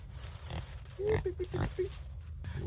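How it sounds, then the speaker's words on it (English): Pigs grunt and oink at a morning feeding, a short series of close, nasal grunts mixed with shuffling and low background noise. "this is what a morning feeding the pigs looks like"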